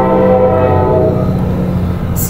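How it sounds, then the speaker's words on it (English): A train horn blares loud and close with steady sustained tones for about a second, then a passing train rumbles on through the rest, low and continuous, with no talking. "Excuse the trains."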